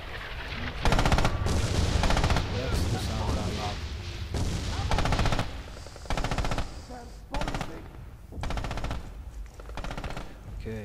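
Machine gun team firing in Red Orchestra 2, loud sustained bursts of automatic fire repeating across the whole stretch, with heavy booms and artillery mixed in and voices talking underneath.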